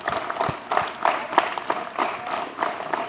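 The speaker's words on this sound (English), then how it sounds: "Clap. Together." A group claps hands together during a drill-style exercise, producing a quick series of sharp, somewhat uneven claps that repeat throughout at close range, with no speech over them.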